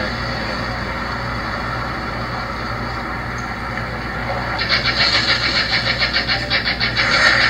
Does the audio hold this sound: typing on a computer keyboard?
no